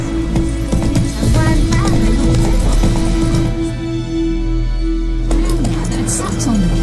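Roach, Geralt's horse in The Witcher 3, gallops in a steady, loud clip-clop of hooves. Voices speak over the hoofbeats and game music plays beneath them.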